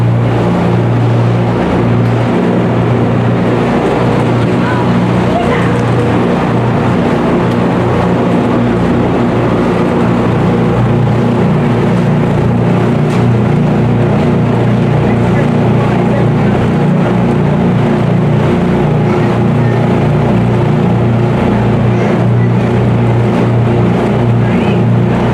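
A boat driven by three 6.2-liter LS V8 engines producing around 1,500 horsepower roars steadily and loudly for the whole stretch, a thick continuous engine drone with wind and water rush, and a voice speaking beneath it.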